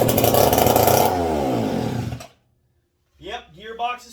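A McCulloch 55 gear-drive chainsaw fires up with a loud buzzing rasp that winds down and cuts out after about two seconds, followed by silence and then someone speaking.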